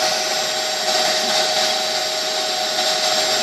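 A Bissell Pet Premiere upholstery cleaner extracts grime from a car seat with a loud, steady motor whine and airy suction roar, running continuously and close up with no talk.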